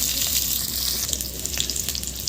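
Boiled potatoes fry in a little oil in a kadai wok, a dense continuous sizzle with light crackles and occasional stirring, close and steady with no voices.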